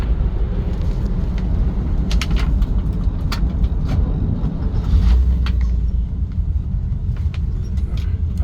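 Steady low rumble and road noise from the rear end of a 1955 Chevrolet Bel Air while driving on underinflated tires at 18 psi, with faint ticking over the constant drone.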